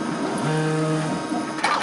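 A vinyl cutter starts cutting out a sign, giving a brief mechanical whir with a steady motor tone and a small shift in pitch near the end, close by and without speech.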